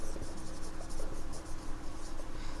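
Marker or chalk writing on a board during a chemistry lecture on coordination compounds, a steady scratchy scrawl running continuously close by, with no speech.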